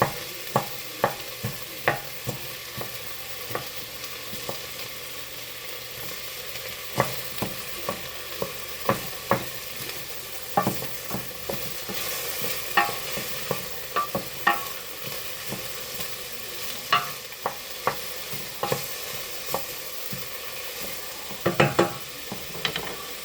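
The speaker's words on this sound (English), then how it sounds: "I'm also currently breaking apart some of the onions that may be stuck together." Onions frying in a pan crackle under a constant sizzle while a utensil stirs and breaks them apart, producing frequent irregular clacks and scrapes up close, with no voices.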